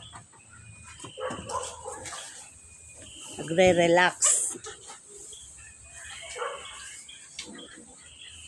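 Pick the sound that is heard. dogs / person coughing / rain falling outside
dogs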